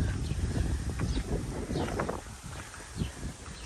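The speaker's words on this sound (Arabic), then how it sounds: "كاين الريح ما عرفتش واش غيتسمع صوتي مزيان ولا لا." Wind buffets a microphone outdoors among olive trees, gusty low rumbling that swells and dips, with faint rustling in the background.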